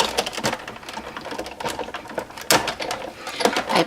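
Hand-cranked die-cutting machine pressing a die sandwich through cardstock, giving a close clattering, ratcheting mechanical run with irregular clicks and a couple of sharper knocks.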